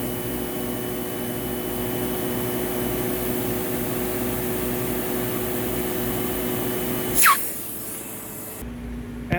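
Suction through the hose of a Sebo X4 upright vacuum cleaner makes a loud, steady airy roar and hiss with a low motor hum, ending in a brief whoosh as the airflow changes near the end.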